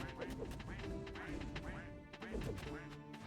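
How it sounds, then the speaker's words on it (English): Ducks quack repeatedly while being fought in a video game, along with crashing and whacking combat effects, all under steady game music and clutter, with no clear pauses. "but we're fighting these ducks."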